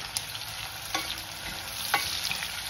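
Chillies being stir-fried in a wok for mackerel cooked in vinegar sauce, giving a steady close sizzle with a few scraping stirs of the spatula and no talking.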